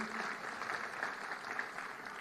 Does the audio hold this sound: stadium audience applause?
yes